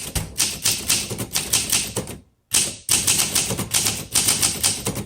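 A blue 1962 Olympia SM7 manual typewriter clatters under quick, uneven keystrokes, loud and close, with one brief pause before the typing resumes.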